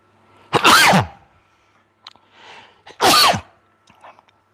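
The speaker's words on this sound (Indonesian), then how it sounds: "Belum pernah kalian lihat saya bersin lagi live kan?" Two loud sneezes from a man, well separated, each a sharp explosive burst, with faint breathy sounds between them and no speech.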